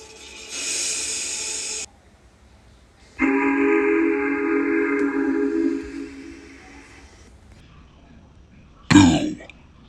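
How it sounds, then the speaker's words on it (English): A steam hiss and then an old steam whistle on a train engine, a sustained hoot lasting a few seconds, followed by a short sharp burst near the end, in a quiet setting. "Thomas wheeshed and set off an old steam whistle."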